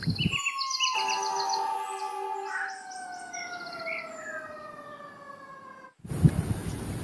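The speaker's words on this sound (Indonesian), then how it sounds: "mobil pemadam kebakaran teman-teman" A toy fire truck gives off a high electronic siren with warbling, bird-like chirps, followed by a long falling tone, fairly faint and close. It cuts off near the end, when a short handling knock is heard.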